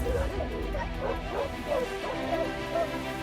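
A group of three village dogs barks repeatedly in an agitated run while chasing off a bear near the village, close and loud, with short yips and whimpering yelps mixed in.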